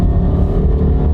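A used car's engine roars loud and close at full throttle in a brief burst of heavy, rumbling revving.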